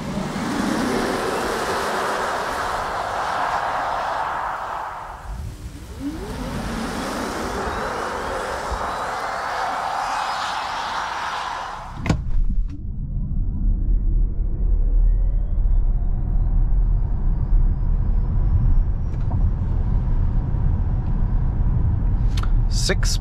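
Skoda Enyaq RS Coupe, a 300 hp electric car, accelerating hard on the Autobahn toward 180 km/h, heard from inside as a rising whine and road roar that gives way to steady wind and tire rumble.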